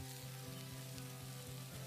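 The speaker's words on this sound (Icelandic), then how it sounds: "Þær verða steiktar á pönnu og vel kryddaðar." Fly larvae fry in a seasoned pan, giving a steady close sizzle with a low rhythmic pulsing hum beneath it, quiet and continuous without talk.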